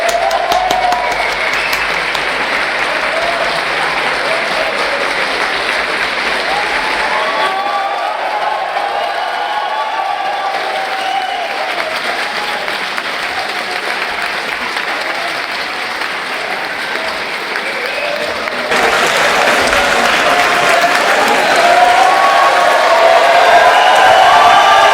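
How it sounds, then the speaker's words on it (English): A university debating society audience at Trinity College Dublin applauds its new honorary patron with loud, sustained clapping that briefly dips and then swells again with some crowd cheering. "please give a warm round of applause to the latest honorary patron of the University Philosophical Society"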